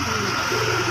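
Pigeons at a pigeon farm coo in a close, continuous low murmur, with steady soft calls and no voices.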